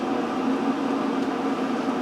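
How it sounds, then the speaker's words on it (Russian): A steady rushing hum with a low rumble, the sound of an electric kettle heating toward a boil, continuous and fairly loud with no talking. "Вот чайник начал закипать."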